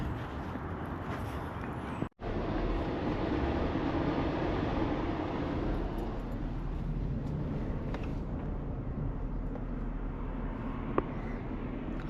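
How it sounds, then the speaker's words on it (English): A cargo train passes at a national arboretum, a loud, continuous low rumble that holds steady for the whole stretch with no talk over it. "It's the cargo train we have been looking for from yesterday."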